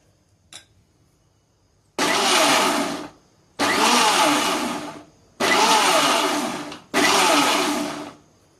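A mixer grinder pulses raw mango pieces into pulp in four loud bursts of roughly a second each, the motor whirring up and cutting off with short silent gaps between runs.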